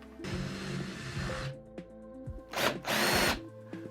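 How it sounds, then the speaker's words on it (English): Power drill boring out rivets holding a PVC flange, with a sustained whine followed by shorter bursts and pauses as the bit bites through the metal. "it's just a matter of drilling out those rivets"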